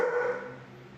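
A single sharp dog bark rings out close by, then fades quickly into quiet.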